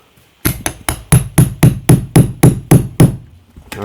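Rivets are hammered into a leather axe sling: about ten sharp, close metallic strikes in an even rhythm, loud and alone against a quiet background.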